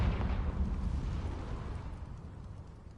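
A Confringo fire spell bursting in Hogwarts Legacy, a heavy low boom at the start that rumbles and slowly decays over a few seconds, with no talk.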